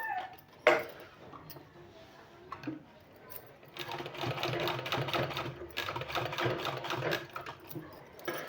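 A sewing machine stitches a folded sleeve seam. A quiet start with a few taps gives way to a steady, rapid mechanical rattle of running stitches, broken by a brief pause, then resumes. The sound is close and moderately faint.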